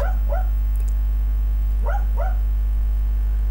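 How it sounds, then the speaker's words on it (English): A dog barks twice, then pauses and barks twice again, sharp yips over a loud, steady low hum near a rusty car under repair. "Just ignore the dog if you can."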